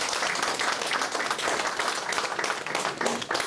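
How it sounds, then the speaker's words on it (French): Audience applause for the Council of Cameroonians of the Diaspora (CCD) at a meeting in Paris: a steady crowd of clapping hands, fairly dense and even, sustained throughout without talk. "Là, je crois que vous pouvez applaudir pour le CCD."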